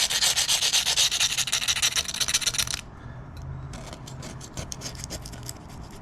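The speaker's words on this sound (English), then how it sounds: "Couple good little tips when you're cleaning stuff up with a razor blade" Razor blade scraping grime off engine parts during a hobby stock engine build: rapid, loud rasping strokes in a fast rhythm for nearly three seconds, then quieter, lighter scratches, close up with no talk.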